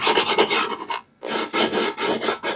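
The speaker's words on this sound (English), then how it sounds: "So I'm going to burnish all these edges down again" Vinyl edges are burnished down against a painted wooden sign with quick, dry rasping strokes, close and loud, in rapid back-and-forth bursts broken by one short pause.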